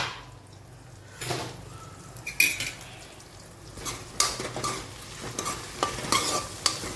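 Onion frying in a pan for a bread-based breakfast dish, a soft sizzle under repeated scraping and clinking stirs of a spoon against the pan that come in irregular bursts, no talking.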